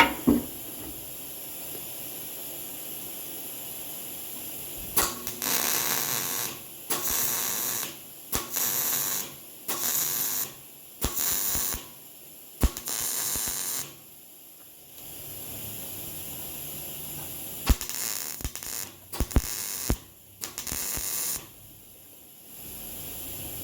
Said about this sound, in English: Welder's welding nicely ever since I put that new feed motor in.